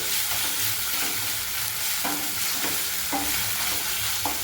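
Ginger garlic paste fries in a pan with a steady, close sizzle, while a spoon scrapes and stirs through it in repeated strokes. No voices are heard.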